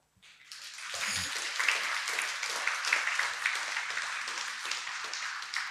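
An audience at an award ceremony gives a lifetime-achievement honoree a warm round of applause. The clapping swells within the first second, then stays dense and even, filling the hall without speech over it.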